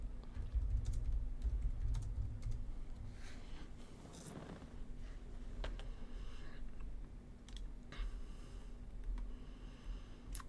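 Typing on a computer keyboard during chess game analysis, with faint, scattered key clicks in irregular short bursts over low background hum, quiet and close with no voices.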